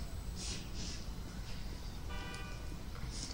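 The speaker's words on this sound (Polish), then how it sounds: "Tam trąbią wszyscy." Car horns honk in the video game GTA 5 with realism mods, short beeps and a longer toot heard against steady traffic rumble, some distance off.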